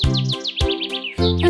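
Bright, cheerful chirps and tweets from a little bird in an animated nursery rhyme, a quick run of rising and falling notes in three short bursts, loud and close, with no talking.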